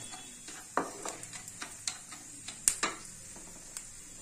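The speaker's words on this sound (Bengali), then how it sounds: "একই ঘিতে সবগুলোকে ভেজে নেব" Dry fruits frying in ghee in a pan give a soft, steady sizzle with scattered quiet clicks and taps of stirring, fairly faint throughout.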